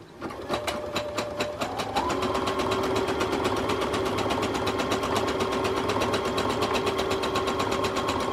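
Close and loud, a sewing machine runs a zigzag stitch on stretch fabric in a continuous, rapid needle clatter that speeds up slightly after the start and holds steady.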